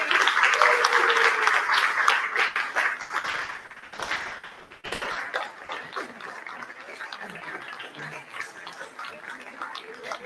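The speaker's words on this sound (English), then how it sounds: "So, can we please have a round of applause for him?" Audience applause for an award recipient at a ceremonial event, dense clapping with some scattered voices mixed in, loud at first and easing somewhat after a brief dip, continuing steadily to the end.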